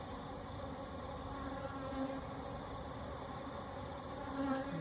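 Honeybees swarm around an opened hive on a cool day, a dense, continuous buzzing drone heard up close, steady and alone with no talk.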